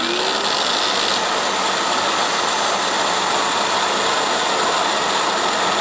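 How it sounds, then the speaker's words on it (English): A Bissell Little Green portable carpet cleaner runs steadily with a constant broadband whine and motor hum, loud and unbroken throughout with no talking. "I'm going to run the vacuum, and I'm going to hold this upright"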